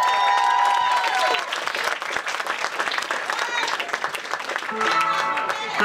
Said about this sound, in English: Keep that applause going for her.